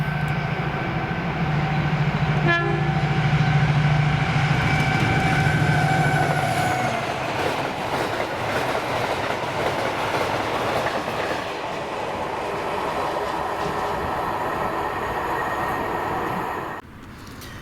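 Freight train 6Z84, the Aberdeen Waterloo to Port of Workington service hauled by locomotive 7802, rolls past with a loud engine drone, then rumbling wagons and clickety-clack wheel beats and faint squeals, ending abruptly.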